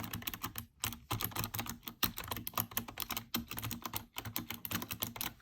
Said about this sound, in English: You can hear, listen to this when I type.